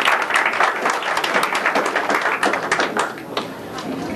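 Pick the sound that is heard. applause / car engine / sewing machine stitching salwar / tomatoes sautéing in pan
applause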